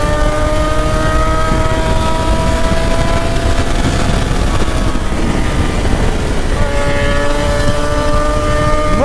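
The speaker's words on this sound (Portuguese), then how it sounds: "Mano, eu nem acelerei muito. Mano, que moto rápida." A new motorcycle accelerates hard, its loud, close engine roar climbing steadily in pitch through the gears, with the rush of wind constant throughout and no talking.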